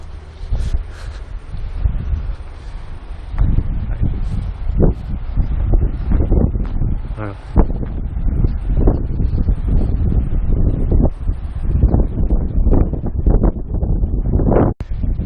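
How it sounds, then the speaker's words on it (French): Strong gusty wind buffets the microphone continuously on the Roys Peak walk in New Zealand, with rustling and rumbling bursts throughout; a brief word is spoken once. "Il y a pas mal de vent quand même."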